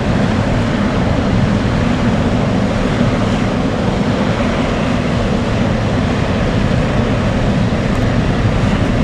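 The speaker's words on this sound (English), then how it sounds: "Seaplane is back. No, this is a new one. We haven't seen this one yet. That's a Kodiak 100." A Kodiak 100 seaplane passes near Anchorage, its steady broadband drone filling the scene with no break, heavy wind rumble mixed in and no voices.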